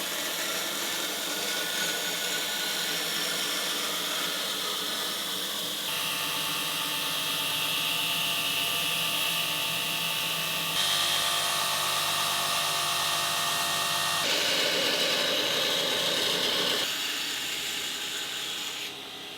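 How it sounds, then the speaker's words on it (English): Titanium knife blade being ground, a steady, harsh abrasive hiss that runs continuously and close, shifting in tone every few seconds as the blade is repositioned. "it's now time to go and grind the blade"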